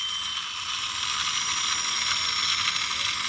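A diecast Land Rover Defender scale model has its tire spun by hand, giving a steady, fine whirring and ticking rattle that holds evenly throughout.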